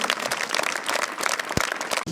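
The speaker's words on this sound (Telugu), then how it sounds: "టీచర్స్ కూడా గట్టిగా క్లాప్స్ కొట్టండి" Teachers and audience at a school event clapping together in dense, sustained applause for a couple of seconds, close and steady.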